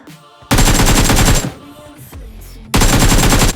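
Automatic gunfire rings out in a BGMI (PUBG Mobile) match as two loud, rapid bursts of shots, the first lasting about a second, then a short lull with fainter game sounds before a second burst begins.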